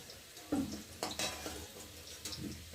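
Fried potatoes are lifted one by one from hot oil for a thin chicken curry, with quiet frying sizzle broken by a few clinks and scrapes of a utensil against the pan.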